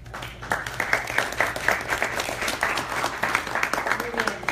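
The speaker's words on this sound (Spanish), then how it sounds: "también un aplauso para Víctor, que esté con nosotros" An audience applauds at a 2017 human rights forum on LGBTI rights in the region, with steady, moderately loud clapping and faint voices underneath.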